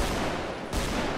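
Gunfire in a multiplayer role-play video game during a hunting outing, a dense burst of rapid shots with a brief dip midway, loud and close with no talk over it.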